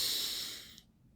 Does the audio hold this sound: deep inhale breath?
yes